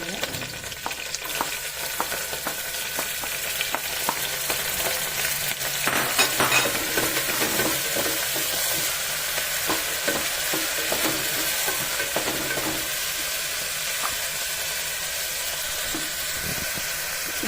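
Ginger and finely chopped garlic fry in a pan for a cauliflower stew, a steady loud sizzle with occasional stirring scrapes throughout and no talk.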